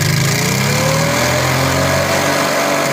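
A Suzuki Chamber Loader engine fitted with an HHO kit revs up loudly and close by, its droning pitch climbing steadily over a continuous rumble.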